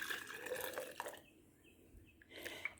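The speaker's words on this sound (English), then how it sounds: "the pouring of the broth." Homemade beef bone broth pours into jars as a soft, close trickle with light splashes and drips, fading briefly midway before the flow picks up again.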